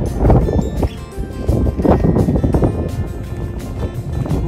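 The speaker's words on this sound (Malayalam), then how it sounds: "ഭയങ്കര തണുപ്പാ, കാറ്റാണ്, കാറ്റ് അതുകൊണ്ട് നല്ല തണുപ്പാ" A strong, cold wind blows outdoors near old ruins in Ireland. It buffets the microphone with a loud, continuous, rushing rumble that surges and eases throughout.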